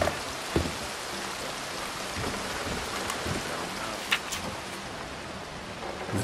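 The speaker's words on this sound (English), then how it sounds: "Well, it's raining." Steady, heavy rain hisses continuously, with a few louder drips and taps landing on a surface here and there, in the video game Red Dead Redemption 2.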